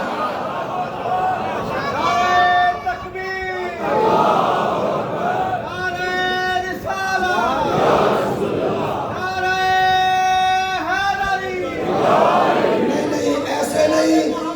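A large crowd at a Shia Muharram majlis chants slogans in unison, several loud rhythmic bursts of voices rising and falling, with crowd murmur between the chants.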